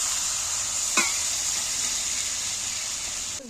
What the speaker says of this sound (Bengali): আমি সাইড দিয়ে একটু জল দিয়ে দিচ্ছি